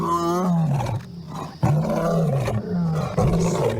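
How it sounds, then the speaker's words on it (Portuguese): Monster roar effect made by blending a lion's roar with a tiger's, heard as several loud, close, rumbling roars in succession with short gaps between them. "O rugido, como conhecemos, é uma impossibilidade anatômica. É simplesmente o barulho de um leão misturado com o de um tigre."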